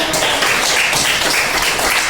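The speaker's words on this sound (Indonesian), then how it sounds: "Ya, tepuk tangan dulu." A classroom of students applauding together, a brief burst of dense, steady clapping at close range with no talking over it.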